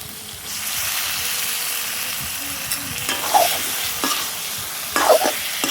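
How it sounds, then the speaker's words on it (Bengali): Chicken frying in a pan of cooked-down spice paste and oil, a steady close sizzle with several scraping stirs of the spoon toward the end. "আমি এই মশলার মধ্যে এখন মাংসটা দিয়ে দিব।"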